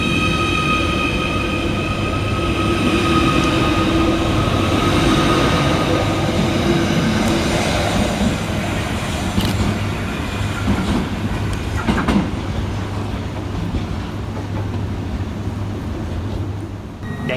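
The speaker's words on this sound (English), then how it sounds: "we see the departure of 77721, working the 1342 Merseyrail electric service from Liverpool Central through to Ellesmere Port" Merseyrail electric unit 77721 pulls out of Liverpool Central on the service to Ellesmere Port, a loud sustained rumble of wheels and traction hum with rhythmic clicks and brief metallic squeals as it departs, no voices.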